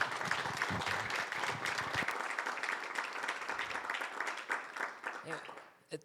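A seated audience gives a warm round of applause for a panel, dense clapping that holds steady for several seconds, then thins out and fades near the end.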